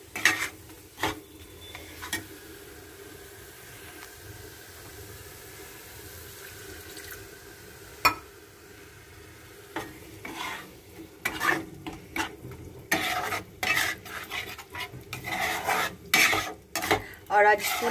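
Bay leaf and black cumin tempering in a home kitchen pan, with a spoon stirring and scraping in short bursts, faint sizzling underneath, growing busier and louder toward the end.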